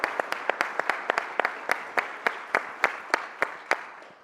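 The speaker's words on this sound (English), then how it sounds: "Give yourselves a round of applause." Applause breaks out from an audience at a foundation presentation event, with sparse, distinct claps scattered rhythmically over a soft crowd wash, moderately distant and without talk.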